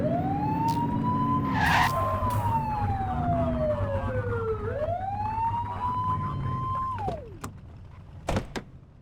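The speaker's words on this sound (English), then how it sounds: "Get behind them and clip the siren and make them pull over" A police car siren in the video game The Precinct wails loudly and close, its pitch sweeping up and down in long slow glides over engine rumble, then dropping away as the car stops, with a few sharp clunks near the end.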